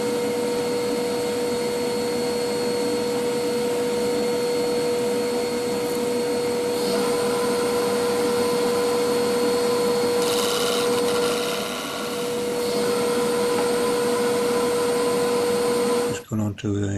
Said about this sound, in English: Now we're going to start once again with the 3/8 bowl gouge, surfacing it off and shaping as well.